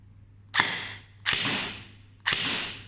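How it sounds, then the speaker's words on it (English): An XYL ARP9 gel blaster fires three single test shots, each a sharp loud pop followed by a short decaying rush, spaced about three-quarters of a second apart against a quiet low hum. "it does have a very loud pop when you shoot"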